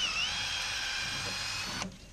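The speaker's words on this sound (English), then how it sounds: "Take my drill." A small power drill whirs at high pitch for about two seconds while boring a small hole, then cuts off abruptly.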